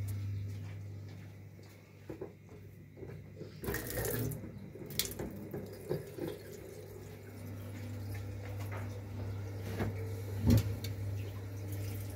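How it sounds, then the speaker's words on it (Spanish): Water runs steadily from a tap fed by a freshly repaired gas water heater, a faint continuous hiss with a low hum beneath and a few clunks and knocks scattered through it. "ahora voy a abrir el agua a ver si quedó funcionando con normalidad"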